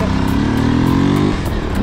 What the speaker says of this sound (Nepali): अब चाहिँ हाम्रो बाइक निकाल्नै पर्ने भयो यार